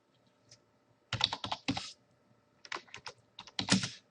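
Computer keyboard typing in short bursts of crisp, close clicks separated by brief pauses, with a faint hum in the background.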